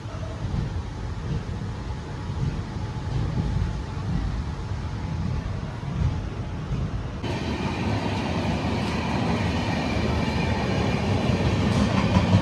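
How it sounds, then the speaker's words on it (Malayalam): Pune–Kanyakumari Express 16381 rolling through a station near hills, a steady loud rumble of wheels and carriages that grows brighter and denser midway as the coaches pass close, continuous clatter with no talk. "നമ്മുടെ പൂനെ കന്യാകുമാരി ഇപ്പോഴാട്ടോ പോകുന്നത് 16381"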